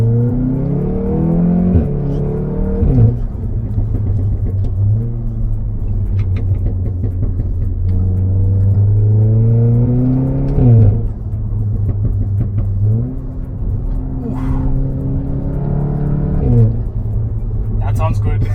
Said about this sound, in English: This car has an updated exhaust system compared to your standard